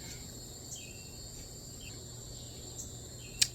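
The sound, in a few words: crickets chirping outdoors at golden hour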